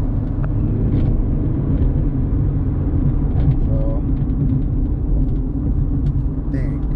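A Hyundai Accent engine hums low and steady from inside the car as it accelerates with a struggling transmission, a constant rumbling drone with no sharp changes, while someone talks over it.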